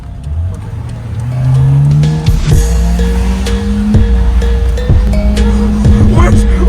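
Car engine revving loudly and rising in pitch at a Swiss car meet, close and sustained, with sharp higher blips and crowd noise mixed in.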